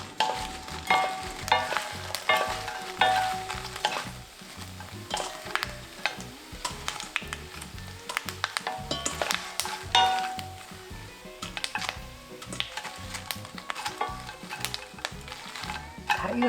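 Seaweed heads fry in a hot pan over medium heat, with a continuous soft sizzle broken by frequent sharp clinks and scrapes of stirring utensils against the pan, and no speech.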